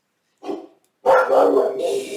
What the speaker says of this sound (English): I got a dog issue. I got lots of big dogs.